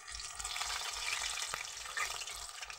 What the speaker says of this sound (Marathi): आपण हे वडे मीडियम गॅसवर तळून घ्यायचे